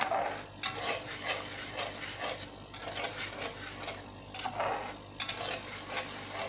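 A spoon stirs mutton white karahi in a pot, giving repeated scraping and clinking strokes at an uneven rhythm over a low sizzle, close and moderately loud.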